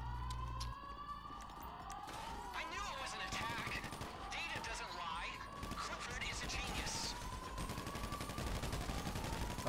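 Minigun fire in a video game comes as sustained rattling bursts with a rising whine, mixed with siren-like wails and shooting. Voices talk over the chaotic, fairly loud battle noise.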